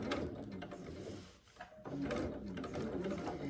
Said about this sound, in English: all you're doing is holding the foam in place with a longer stitch